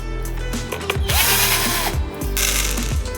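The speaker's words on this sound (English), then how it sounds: "We remove the clamps, unscrew the screws," Screws being unscrewed and clamps removed from a large chocolate mould, close clicking and ratcheting with a whirring power-tool buzz in short bursts, no talking.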